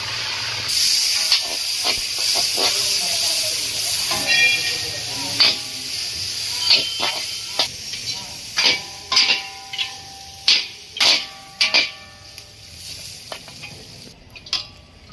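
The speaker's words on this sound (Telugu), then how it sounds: "ఈ కొబ్బరికాయ ముక్కల్ని కూడా ఆయిల్లో అయితే వేయించుకోవాలి" Coconut pieces fry in hot oil with a steady, loud sizzling hiss, joined later by a regular run of sharp scraping taps from stirring.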